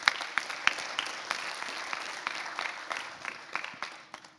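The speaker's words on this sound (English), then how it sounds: "we can just clap for him" Small conference session audience clapping for an online learning talk, a modest round of applause with distinct close claps and a lighter patter behind, thinning out toward the end.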